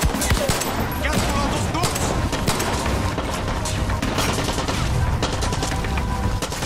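Dense, loud gunfire from a firefight in Far Cry 6 rattles almost nonstop, with rapid bursts and scattered heavy bangs overlapping throughout.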